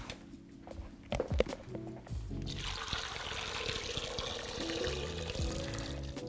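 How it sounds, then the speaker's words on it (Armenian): Freshly boiled water is poured into a pot of potatoes in a home kitchen. A steady, rushing pour starts after a couple of seconds of clatter and keeps going over soft background music. "ես այստեղ կավելացնեմ անմիջապես եռացրած ջուր"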